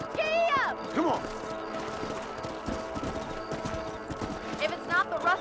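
Hooves clip-clop as a horse gallops across a ranch in the video game Red Dead Redemption, a steady rhythmic beat with a neigh near the start and end, with speech and music-like tones layered over it.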